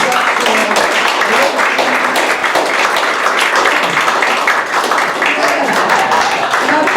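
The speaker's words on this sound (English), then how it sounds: "That was really nice applause" An audience at a magic show applauds after a trick, a dense, steady wash of many hands clapping that carries on evenly throughout, with voices mixed in.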